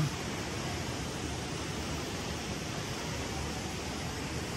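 Water rushes strongly after heavy upstream rain at a farm cafe in Cagayan de Oro, a constant moderately loud roar that holds steady throughout.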